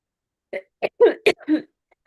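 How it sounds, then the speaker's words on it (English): A short series of five throaty coughing bursts close to the microphone, separated by brief pauses, with silence before and after. "Sorry, I got a cough too."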